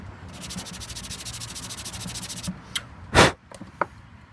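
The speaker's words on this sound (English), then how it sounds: "And sand it up a little bit." A twisted wooden pipe is sanded by hand in quick, close rubbing strokes for a couple of seconds, followed by a sharp knock and a few light taps.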